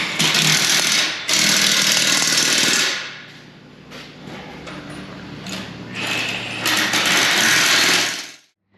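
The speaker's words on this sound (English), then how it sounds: "just got to tighten these bolts up" Impact wrench or power tool tightening wheel bolts on a John Deere 8320R tractor while mounting dual wheels: loud bursts of buzzing rattling in two long runs, with a quieter mechanical stretch between them.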